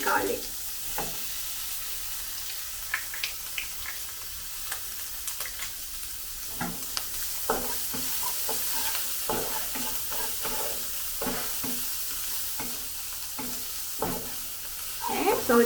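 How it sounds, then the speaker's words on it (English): Minced garlic, two cloves, frying in a pan for kerabu beehoon, a continuous crackling sizzle with scattered clicks of stirring, no talk over it. "So just fry until the garlic is a little bit brown."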